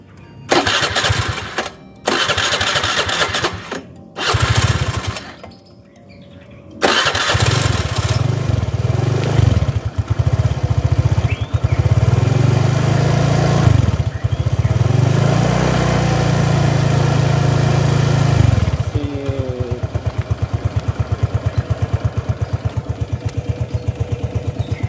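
A Suzuki Address 110 FI scooter, four years without an oil change, cranks in several short bursts, then catches and settles into a loud, steady idle with a few revs before evening out.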